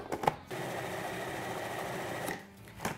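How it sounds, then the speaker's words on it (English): A food processor whirs through a falafel mixture with garlic in a steady two-second motor burst. It follows a brief clatter and winds down at the end, quiet and close. "let's get this into the food processor"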